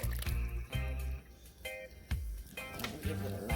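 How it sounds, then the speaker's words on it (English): Coconut milk is poured into a pot of Jamaican red peas soup with salted pigtails, giving soft wet glugs and splashy drips in short bursts, close and fairly quiet, with faint background music. "Next I'm going to add my coconut milk."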